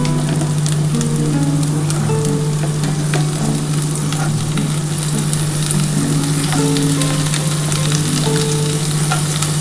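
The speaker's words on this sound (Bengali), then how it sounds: "আগে একটু পেঁপেটা একটুখানি ভেজে নিই হালকা করে, তারপর আলুটা দেবো" Papaya and potato pieces fry in hot oil in a pan, making a loud, continuous close sizzle with occasional stirring, and no voices.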